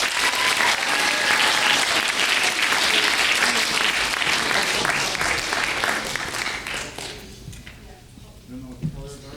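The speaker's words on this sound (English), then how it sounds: "Round of applause for Kevin." An audience at a school spring concert of concert and jazz bands applauds Kevin Jackson, dense, loud clapping that holds steady and then fades out, with a voice emerging near the end.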